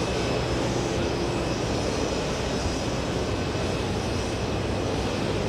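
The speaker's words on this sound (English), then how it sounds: "Behind the 787 VIP, we have a 777, 300 ER flying in from Heathrow." A Boeing 777-300ER airliner arriving on a Heathrow flight lands at JFK airport in New York, its engines a loud continuous broadband roar that stays steady and close for the whole stretch, with no talk over it.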